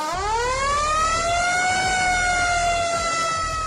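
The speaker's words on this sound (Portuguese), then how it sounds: "surgiram as sirenes mecânicas rotativas, que usavam o ar em movimento para gerar aquele som agudo e constante" A mechanical rotary fire truck siren winds up from a low pitch into a high, steady whine, then holds there loud and constant with only a slight sag near the end.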